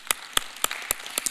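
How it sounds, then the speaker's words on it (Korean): A church congregation claps in praise during a Friday night service, about six sharp, evenly spaced hand claps ringing out clearly and close, with no voices over them. "박수를 한번 올려드리겠습니다."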